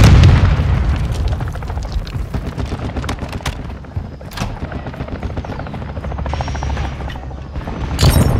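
A helicopter flies over in Call of Duty: Modern Warfare II, its rotor chop loud and continuous throughout, joined by distant explosions and bursts of gunfire at the start and end.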